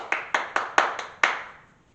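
Six sharp hand claps in a steady rhythm with a short pause before the last, close and fairly clear, from preschool children clapping in a classroom.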